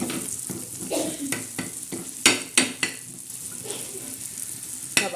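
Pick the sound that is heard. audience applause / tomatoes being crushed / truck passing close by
tomatoes being crushed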